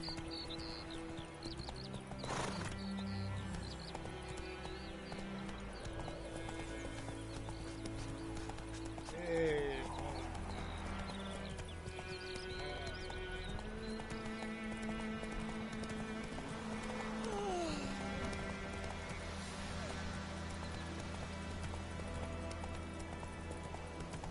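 Galloping horse hooves in The Witcher 3 video game beat a steady, quiet clip-clop beneath a dense game soundtrack and effects.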